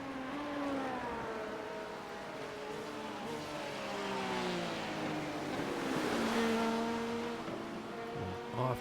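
Race cars in the iRacing sim at an IMSA event, an LMP2 prototype late-braking inside a GT3 car, with engines revving and rising and falling through gear changes at steady loudness, and a brief tire squeal near the end.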